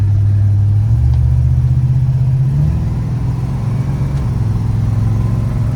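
A 1972 Oldsmobile Hurst with a 455 big-block V8 rumbles close by as it drives down the road, a deep steady drone that shifts pitch slightly as it pulls along.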